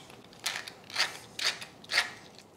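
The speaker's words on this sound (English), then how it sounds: "And some grinds of black pepper." A pepper mill grinding black pepper: four short, quiet ratcheting grinds spaced about half a second apart, close and faint with no talk.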